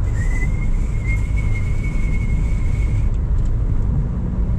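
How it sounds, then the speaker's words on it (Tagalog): Inside a 2024 Toyota Raize E CVT cruising at 100 km/h on a concrete expressway, a loud, steady low road and engine rumble fills the cabin, with a faint high whine over it that fades partway through. "So noise level, we're driving at 100 kilometers per hour."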